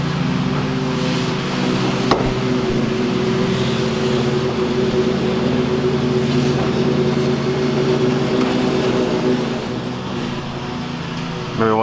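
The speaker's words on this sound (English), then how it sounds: "They're kind of cutting the yard, so excuse the background noise." Steady droning engine hum, loud and continuous throughout, like a mower running close by, with a sharp knock early on.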